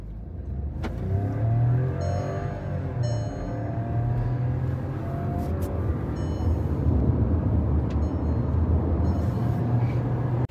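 Two cars in a drag race, a 2022 Maruti Baleno and a Skoda Slavia, accelerate hard with a sustained engine roar building steadily over about ten seconds, loud and close, with brief higher whines and clicks.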